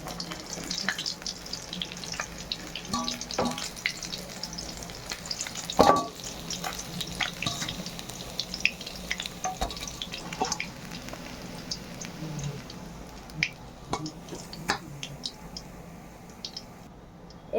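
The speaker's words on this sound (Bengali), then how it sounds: "মাছগুলো ভাজা হয়ে গেছে" Fish pieces frying in a pan, a steady crackling sizzle with scattered pops and the occasional scrape of a utensil, continuous and fairly close throughout, with no one talking.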